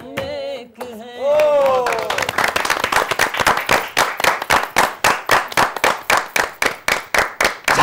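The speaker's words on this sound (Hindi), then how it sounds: "ये आपने ताली बजाई ना, छक्के की ताली है ना ये." Crowd at a cricket event bursts into loud applause after a brief voice, settling into steady rhythmic clapping in unison, sharp regular claps continuing for several seconds.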